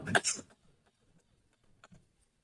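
A single short cough up close, followed by quiet, faint rustling.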